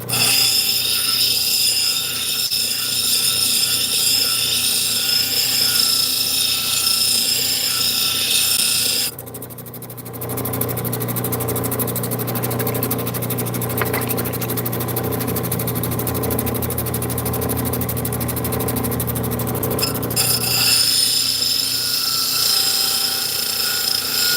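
Wild Horse jasper and turquoise pressed hard against an 80 grit grinding wheel, producing a continuous harsh rasping grind over a motor hum; the grinding deepens into a heavier, lower drone partway through before returning to its earlier tone.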